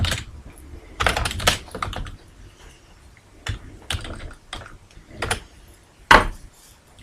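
Keys clatter close by on a computer keyboard while saving an Excel 2010 file, coming in irregular short bursts with quiet pauses between them.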